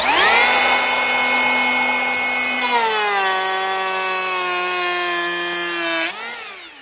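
A Makita 40V cordless planer shaves tannalized timber with knots, whining loudly and steadily close by, its pitch dropping partway as the blade bites and rising again as it spins down at the end.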